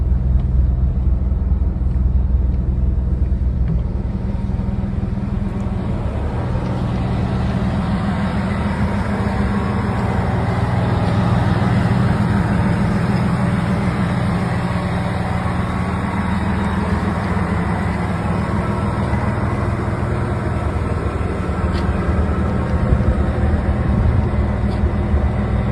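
A mid-1990s Chevrolet Camaro convertible engine runs at a steady idle, with a loud, continuous low rumble that holds evenly close by and has no talk over it.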